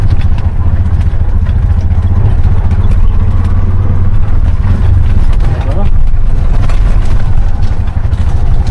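Steady low drone of a Bajaj RE three-wheeler engine running during a drive, with rattling clatter and continuous near rumble, voices talking over it.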